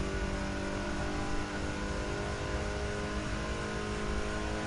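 Dutch supercar in The Crew 2 holding a loud, steady engine drone at high speed, with dense harmonic whine and no break across the whole stretch.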